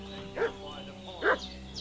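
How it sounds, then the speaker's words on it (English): Dog barking in a video game: two distinct barks about a second apart, moderately close, set over a steady droning ambient background. "What's that dog making such a fuss about?"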